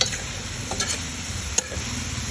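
Bitter gourd (ampalaya) being stirred in a frying pan, a steady close sizzle with light scraping strokes of the utensil and a few faint clicks, no talking.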